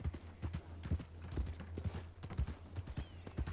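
Horse hooves clip-clop in a steady rhythmic gait in Red Dead Redemption II, the hoofbeats fairly soft and evenly spaced over a quiet background.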